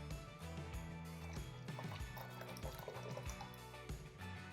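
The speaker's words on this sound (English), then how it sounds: "and then I'm going to add in the melted butter" Melted butter poured into a stand mixer bowl over water for homemade sandwich bread dough, a steady liquid splashing and dripping at close range with soft knocks, continuing for several seconds without talk.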